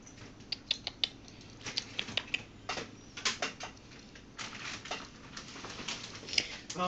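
A kitten climbs into a plastic bag, making close, irregular crinkling and crackling rustles in quick bursts throughout.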